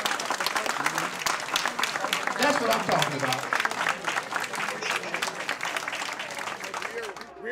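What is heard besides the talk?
standing audience applause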